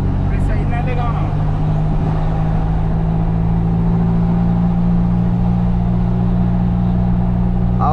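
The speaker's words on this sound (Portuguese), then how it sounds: "Você rela assim, ela já acelera." A chipped Ford F-250 4x4 with about 300 hp and a straight exhaust idles and revs in a deep, continuous, loud rumble, with people talking over it.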